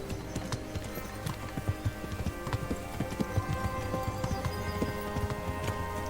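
Rhythmic clip-clop of horse hooves trotting at a steady pace in the video game Kingdom Come: Deliverance, fairly close, with a faint background hum and no voices.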